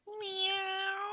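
A single cat meow, clear and close, drawn out for about a second with a slight rise in pitch.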